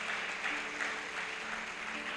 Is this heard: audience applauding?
yes